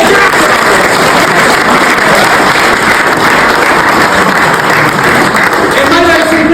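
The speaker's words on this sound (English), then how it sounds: "A round of applause for the son of" Sustained applause from an audience at a student superhero eulogy performance fills the space, loud and steady for several seconds with dense clapping and some voices mixed in.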